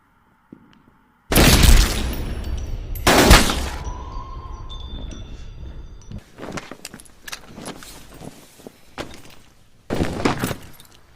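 Gunfire from an action film rings out as loud, sharp bursts and rapid volleys, followed by metallic clatter and scattered impacts, with no speech.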